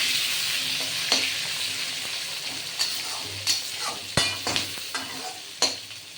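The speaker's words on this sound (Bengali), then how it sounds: "কাঁচকলাটা একটু লাল করে ভাজা হবে" Green bananas sizzle steadily in hot oil in a pan, with a soft, constant hiss broken by occasional sharp clicks of a spatula stirring.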